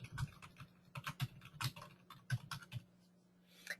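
Rapid, irregular keystrokes on a computer keyboard while a message is composed, quiet and close with uneven bursts of clicks and no voices.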